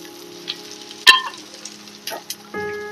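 Chicken manchurian pieces frying in a pan while stirred until golden, a quiet low sizzle punctuated by sharp utensil clinks and scrapes, with a tonal hum entering near the end.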